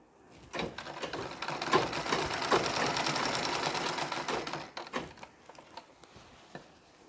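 A sewing machine runs a continuous, close burst of stitching on a Nauvari saree for several seconds, ending in a few short clicks and taps as it slows and stops.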